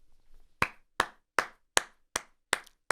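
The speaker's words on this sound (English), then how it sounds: "Slow clap for Panda Express." Seven slow, evenly spaced hand claps ring out one by one, loud and close, with brief silence between each.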